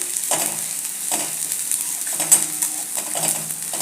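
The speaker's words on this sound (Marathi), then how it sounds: "असं एक दोन मिनटं मसाले कांदा टोमॅटो सगळं व्यवस्थित परतून घ्यायचं" Spices, onion and tomato sautéing in a pan crackle and sizzle close by, with repeated scraping strokes of a spoon stirring at a steady rhythm.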